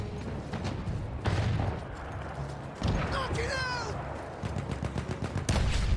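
Shotgun fire in the Battlefield 1 campaign, several sharp booming blasts spaced irregularly among game effects and battle noise, with a voice talking over parts of it.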